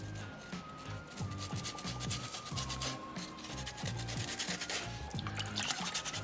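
Sandpaper rubs back and forth over a small soapstone polar bear carving, a close, rhythmic scratchy rasp repeating in short strokes with no talking.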